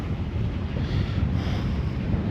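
Wind at about 16 knots blowing over a sailboat at sea: a steady, loud buffeting roar with a deep low rumble that runs the whole time, and no voices.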